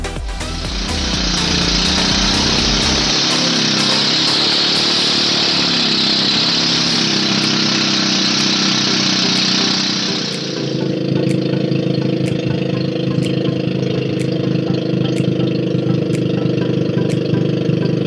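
A loud boat motor drones steadily close by, its pitch shifting partway through before settling into a lower, even chugging hum.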